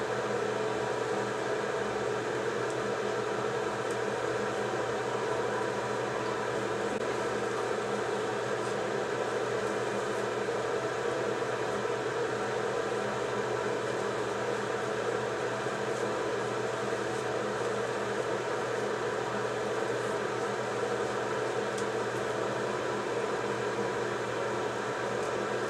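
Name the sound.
hair dryer blow-drying hair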